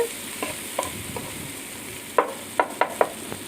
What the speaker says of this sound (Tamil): இப்போ தக்காளியும் நல்லா வதங்கட்டும் பாருங்கள் நல்லா மேஷ் ஆகிற மாதிரி வதங்கிட்டு